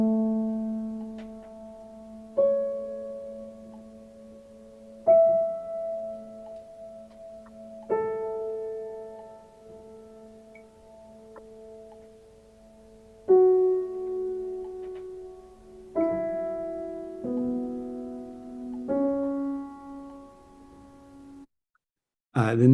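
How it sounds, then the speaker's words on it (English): Slow, calm instrumental music with soft sustained chords changing every few seconds, gentle and quiet, ending abruptly. "The first is actually one of the pieces submitted by one of the composers in our department"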